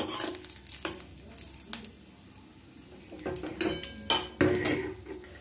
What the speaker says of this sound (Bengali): ফোড়নটা একটু ভাজা হয়ে গেলে আমি এর মধ্যে টমেটোটা দিয়ে দেবো।